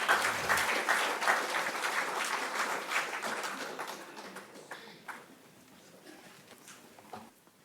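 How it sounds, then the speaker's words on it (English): An audience at a book launch event applauds to welcome speakers to the stage, dense clapping that starts loud and gradually thins out to scattered claps by the end. "Let's have a huge round of applause in welcoming them to stage."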